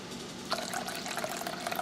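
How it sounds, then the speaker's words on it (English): Freshly boiled hot water pours into a pot in a home kitchen, a soft, steady splashing trickle with a few brighter drips, fairly quiet and alone. "Also going to add half a cup of hot water."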